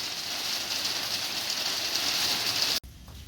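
Rain starting to fall outside a car paint shop, a steady hissing wash of drops that holds evenly, then cuts off abruptly near the end, with no voices.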